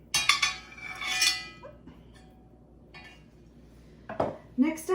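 Home-canned taco soup ingredients tipped into a pan, giving bursts of clinking, scraping and sloshing as jars and a spoon knock against metal, close and loud in short separate spells.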